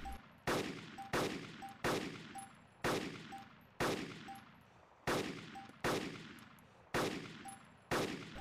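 Rapid DMR sniper rifle shots in DayZ ring out about once per second, nine or so sharp loud cracks in an even rhythm, each with a ringing metallic tail and no talking.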